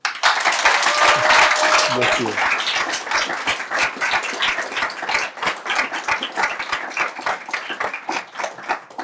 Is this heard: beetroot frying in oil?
no